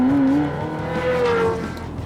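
Sports car engine revving hard under acceleration, a loud close interior drone that climbs in pitch, dips at a gear change, then climbs again, with no talk.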